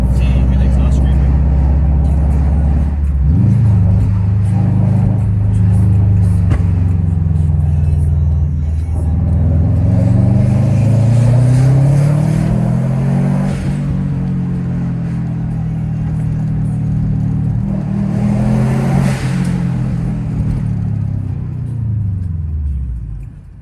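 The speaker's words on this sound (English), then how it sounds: "See, your exhaust screaming." Subaru WRX exhaust with a break-in tune, loud and close from inside the moving car, rising and falling as the engine revs up and down through several pulls, steady road rumble underneath.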